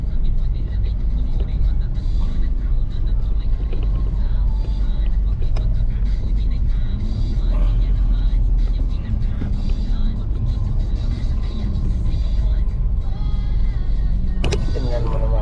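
Afternoon road traffic along Aguinaldo Highway rumbles steadily with deep, continuous engine drone and occasional brief clanks, while voices talk over it.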